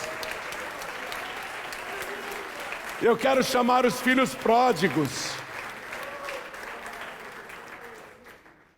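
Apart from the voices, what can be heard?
audience applauding in church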